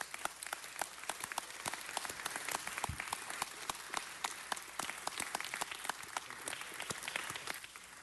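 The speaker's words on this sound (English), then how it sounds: "give him a round of applause" Audience applause fills a city council meeting chamber, a steady wash of many hands clapping at moderate distance, sustained and even throughout with no voices standing out.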